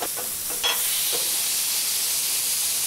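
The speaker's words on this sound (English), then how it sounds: "everything cooks quick, gets a good hard sear" An elk smash burger patty sears on a hot griddle, a steady loud sizzle hissing throughout with a few brief scraping stirs near the start.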